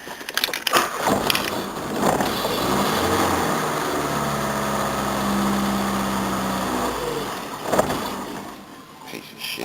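A Daewoo car engine idling rough on a cold start, a wavering, uneven mechanical drone with clattery bursts at the start and again near the end, heard close.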